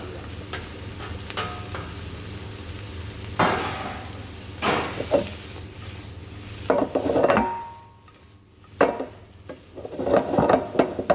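Chicken fries in a pan with a low background sizzle, broken by intermittent scraping and clattering stirs of a utensil against the pan, some sharp and loud, others softer, with no talk.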